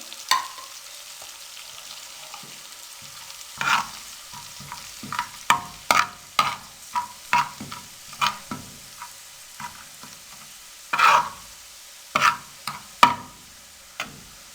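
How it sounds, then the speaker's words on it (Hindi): Spices and red chili powder fry in a pan, a soft sizzle punctuated by sharp clicks and scrapes of a spoon stirring at irregular intervals, close up with no voices. "अब 1 मिनट के लिए इसको हम फ्राई कर लेंगे"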